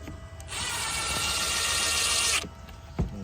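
A power drill drives gold screws into a wooden hedgehog box, one steady whirring run of about two seconds close by, then a short clunk as the drill stops.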